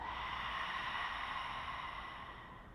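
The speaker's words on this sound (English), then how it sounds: "Exhale through the mouth." A long, steady breath exhaled through the mouth during a seated breathing exercise for the lower back and upper thoracic spine, a soft, even breathy rush that fades slowly over a few seconds.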